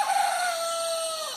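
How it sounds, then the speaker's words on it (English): A single rooster crows clearly and close, one drawn-out call lasting over a second with no other sounds. "she recorded the rooster that was in her backyard."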